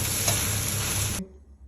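Fried rice with egg is stirred in a hot pan, giving a dense sizzling scrape that runs steadily for just over a second and then cuts off abruptly to near silence.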